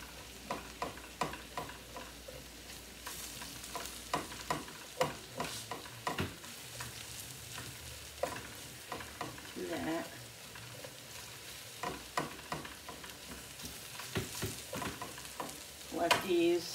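Mushrooms frying in a pan for a bow tie pasta dish, with steady sizzling broken by repeated scraping stirs and clatter of the utensil, fairly close and loud with no talking.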